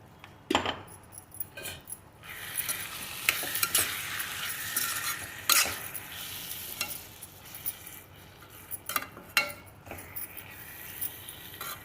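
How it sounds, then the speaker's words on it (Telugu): Coarsely ground mustard powder being stirred into a hot pickle mixture in a pan on the stove, with repeated scraping and clinking of a spoon against metal over a soft sizzle, no voices. "ఇప్పుడు ఈ ఆవాల పొడి దీంట్లో కలిపేస్తాను."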